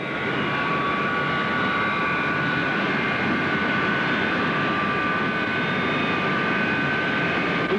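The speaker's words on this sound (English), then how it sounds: "he's dumping fuel, neat fuel, into the jet pipe," At a York drag racing meet, a jet-powered truck dumps neat fuel into its jet pipe, where it ignites. A loud, continuous jet roar holds steady without a break, and no voices are heard.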